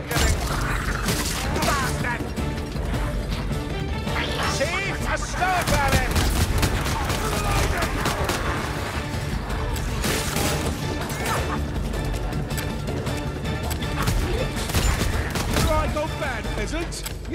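Warhammer: Vermintide combat with gunfire mixed into constant clashing, smashing impacts and crashes, a dense loud melee din throughout.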